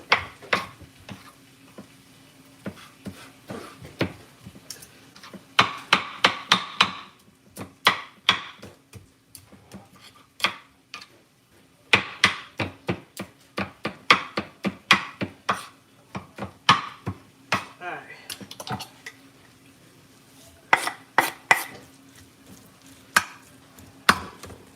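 Tender jerk chicken chopped with a knife on a cutting board, many crisp thuds in bursts and steady runs, close and clear, with no talking.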